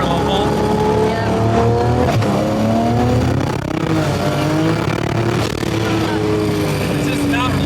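A Barra-engined Ford GT350 pulls hard from low revs, its engine note climbing steadily through gear changes, loud and close, with the rising harmonic whine repeating after each shift and no talking over it.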